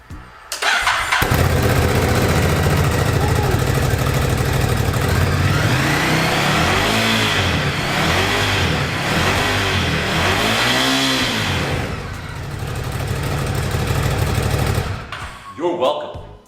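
A Ducati Scrambler 1100 fitted with a slip-on exhaust fires up and idles loudly nearby, then gets blipped through several sharp rising and falling revs before shutting off.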